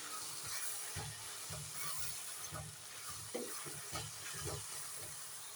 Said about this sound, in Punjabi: ਲਓ ਜੀ ਆਪਣੀ ਸਬਜ਼ੀ ਰਿੱਝ ਰਹੀ ਹੈ ਹੌਲੀ ਹੌਲੀ ਤੇਲ ਛੱਡਣਾ ਸਟਾਰਟ ਕਰਤਾ